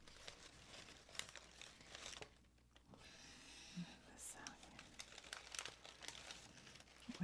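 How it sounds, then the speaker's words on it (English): Newsprint paper used as beauty-product packaging crinkles and rustles in soft, close bursts through most of the stretch, with a brief quieter pause, the handling sounds near and delicate. "And then it has this kind of newsprint paper for the packaging."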